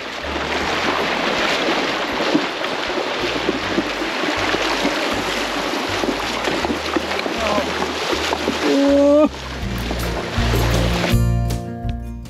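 A vehicle crosses the Bavispe River on a mountain route from Bacerac, Sonora, with steady rushing and splashing water over a low engine hum that rises toward the end. No one speaks.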